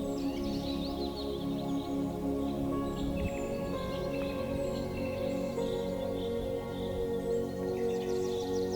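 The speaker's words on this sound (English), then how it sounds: "The birds singing, the rustle of the wind through the leaves, the gentle sound of a nearby stream." Birds chirp and sing outdoors among trees, scattered high calls over a constant low ambient hum, faint and distant, with no voices.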